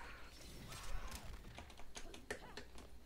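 A computer keyboard is tapped during a ranked Mortal Kombat match, with quick, faint clusters of key presses and clacks in irregular bursts over a low background hum.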